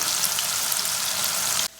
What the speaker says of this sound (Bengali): সুইট বেবি কর্ন ভাজা চলছে